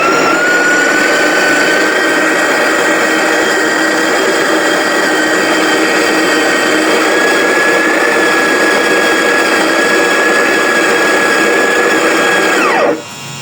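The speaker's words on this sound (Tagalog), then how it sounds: "ito yung ating grinder" An electric coffee grinder grinds kapeng barako coffee beans in a steady, loud, continuous whir that holds its pitch for the whole stretch, then cuts off abruptly near the end as the motor stops.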